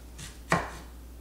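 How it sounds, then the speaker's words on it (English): A knife slices down through an onion onto a cutting board, one sharp close chop standing out from a quiet room, with a faint softer cut just before it. "So just keep cutting."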